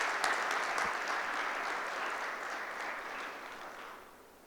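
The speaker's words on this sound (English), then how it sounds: "So can we welcome him with a round of applause?" An audience at a game developers conference claps to welcome a speaker onto the stage. The round of applause is fairly quiet and distant, dense at first and then slowly thinning out as it fades.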